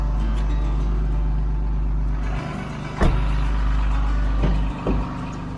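A truck engine idles at a pole barn building site, making a steady, loud low rumble with a few brief knocks and clunks over it.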